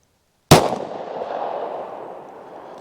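A Glock 27 pistol fires a single heavy 180-grain round, a sharp, loud report followed by a long echoing decay, with no voices.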